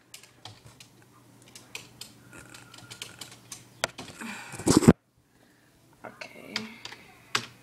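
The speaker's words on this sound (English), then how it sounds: "I need two hands to type" Typing on a computer keyboard comes in scattered, fairly quiet clicks and taps, then a brief loud rustle and a short silence before more keystrokes. A voice speaks briefly.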